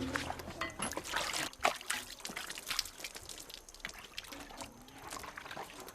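Water splashes and trickles over a coffee pulping machine as it is rinsed, an uneven run of close pouring and dripping with faint background noise.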